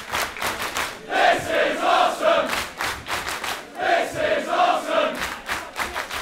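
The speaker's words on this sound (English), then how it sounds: "this crowd goes wild with their appreciation." A wrestling crowd roars and chants wildly, with loud surging waves of massed voices rising and falling rhythmically throughout.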